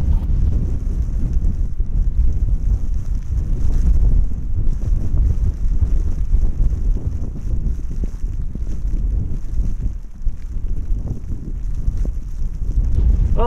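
Strong wind blowing steadily around a van parked near a road during a severe winter snow storm, a loud continuous roar with buffeting gusts against the microphone.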